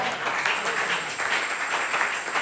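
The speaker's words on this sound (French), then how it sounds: "Applaudissez pour le Seigneur" A church congregation bursts into steady, dense applause for the Lord during a sermon, a continuous wash of many clapping hands with no break.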